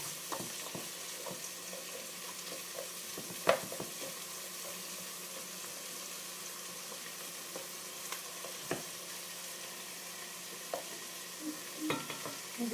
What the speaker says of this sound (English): just keep stirring that occasionally so that they all get coated with that butter